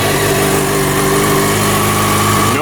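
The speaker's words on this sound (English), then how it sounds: "press your electric start switch and your bike will come to life" A motorcycle engine with an electric starter, held in neutral, runs loud and close at a steady idle with a low, even rumble throughout.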